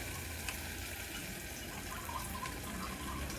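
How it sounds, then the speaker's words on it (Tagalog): Water pours steadily into a tin can, a close continuous splashing gush with no talk over it. "Lagyan mo ng tubig yung lata."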